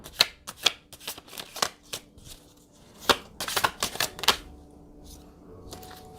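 A deck of tarot cards is shuffled up close in quick riffling bursts, a run of sharp flutters with brief pauses between them.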